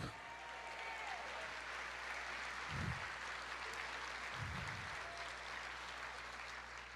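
A church congregation keeps up a steady, broad wash of applause at low level, with a faint hum underneath and a couple of brief low thumps partway through.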